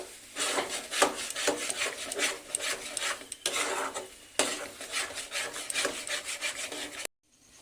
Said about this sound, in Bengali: এইটা যতক্ষণ না ভালো করে শুকনো হবে এরকমভাবে আমি নাড়তে থাকবো।